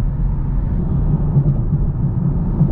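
A 2023 Chevrolet Camaro LT1 on run-flat tires rolls over a rough stretch of road, giving a steady, loud low rumble of tire and road noise inside the cabin with no talking.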